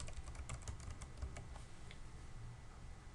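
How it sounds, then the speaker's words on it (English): A computer keyboard typed on at a desk, with a quick burst of close, soft clicking keystrokes that thins out toward the end, and no talk. "So I'll just go and type as approved"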